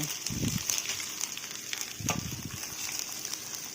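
Banana stem added to a pan of browned onions sizzles and crackles, with two brief bursts of louder frying and stirring scrapes over a steady hiss, close and fairly quiet.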